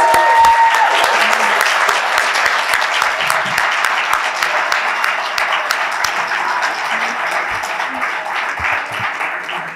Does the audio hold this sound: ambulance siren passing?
no